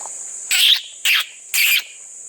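Three loud, buzzy calls in a steady rhythm ring out close by over a constant high insect-like drone.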